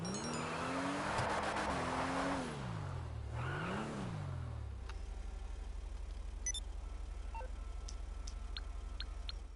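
A drift car revs hard in GTA Online at the LS car meet. The engine climbs and dips through a few loud swells, then settles into a steady low idle with faint ticking clicks over it.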